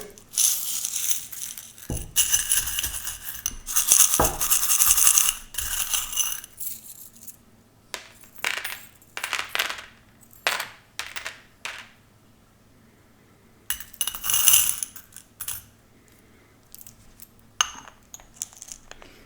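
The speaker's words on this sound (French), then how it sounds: "Alors, on va mettre quelques breloques." Small metal charms dropped onto a surface, bursts of bright clinking and jingling in several clusters separated by quiet pauses, close and fairly soft, no talking.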